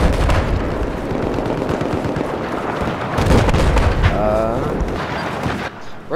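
Sniper and gunfire from the M26 MASS and .50 cal shooter game, with a dense rumbling barrage of shots and booms that swells midway, loud and continuous, with voices mixed in.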